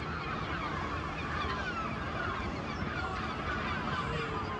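Birds honk noisily and continuously at an open-air coastal restaurant in Lambert, with a dense, close chorus of calls over a wash of background noise.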